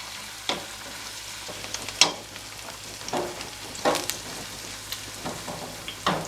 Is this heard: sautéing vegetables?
yes